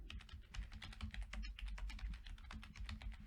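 Steady, quick typing on a computer keyboard, close by with dense overlapping keystrokes and a low background hum, no voices.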